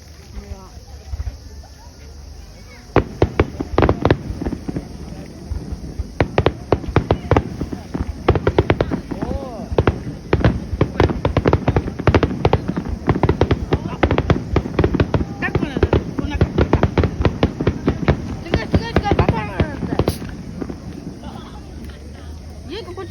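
Fireworks at the 2023 Showa Kinen Park festival burst in rapid crackling volleys, dense popping and sharp reports following one another loudly for about twenty seconds after a quieter start.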